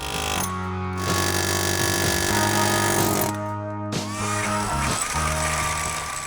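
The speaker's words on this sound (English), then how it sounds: "An air hammer with a forked bit chews those rivet heads right off of there." An air hammer fitted with a forked bit chisels rivet heads off during a custom exhaust job on a 2010 Dodge Challenger SRT8, giving a loud, dense, continuous pneumatic rattle in two long bursts with a short break between.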